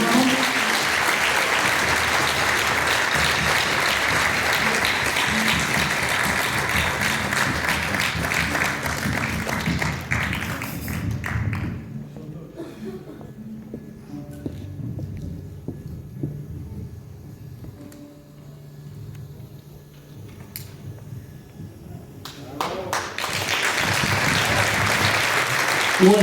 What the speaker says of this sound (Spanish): Así que un aplauso para eso.